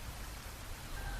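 Rain falls steadily outside at night, a soft, even patter of drops spread across the whole moment with no voices over it.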